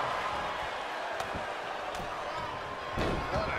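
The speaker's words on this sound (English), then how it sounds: "then slamming their face down." A wrestler slams an opponent's face down into the mat in the WWE 2K23 video game, a heavy impact thud amid steady arena crowd noise, with a commentator's voice running over it.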